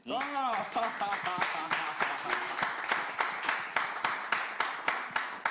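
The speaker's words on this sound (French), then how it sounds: "Est-ce qu'on peut juste applaudir Axel Merrill" Studio audience clapping on a French live show, a rhythmic, evenly spaced beat of hands that starts right after a short burst of voice and continues steadily to the end.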